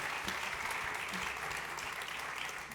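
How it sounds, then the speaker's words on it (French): Audience applause for the presenters after a French talk on omnichannel customer journeys, a steady, fairly quiet patter of many hands clapping throughout, heard from a distance. "Vous pouvez les applaudir."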